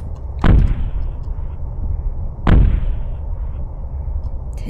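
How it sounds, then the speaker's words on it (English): Two heavy thumps from an upstairs bedroom in the video game Ao Oni, each a deep, loud single impact with a lingering tail, spaced about two seconds apart over a quiet, low ambient hum. "That noise sounded like it came from upstairs bedroom. Okay. That's thumping."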